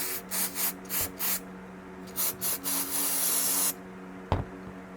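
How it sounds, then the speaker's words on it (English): An aerosol can of cleaner sprays a Lexus mass airflow sensor in a run of short hissing bursts, then one long continuous blast, close and fairly quiet, ending with a small sharp knock. "spray it off real good"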